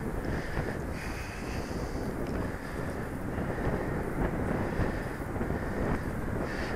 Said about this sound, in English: you can see it's just too windy for it